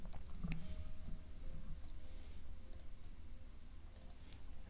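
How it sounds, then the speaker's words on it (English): Light, irregular clicking of computer keyboard keys, quiet and close, with soft taps scattered over a low background hum and no talking. "I'm typing a lot"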